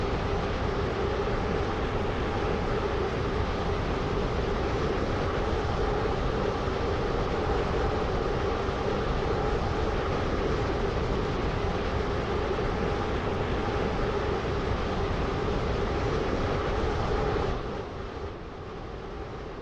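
A Stepford Connect train in a video game hums along as a steady, even drone of rolling stock at constant speed, easing down in level just before the end.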